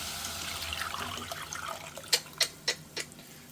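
A tamarind, chili powder and salt liquid pours and trickles softly into a pan for a couple of seconds, followed by a few sharp clinking taps.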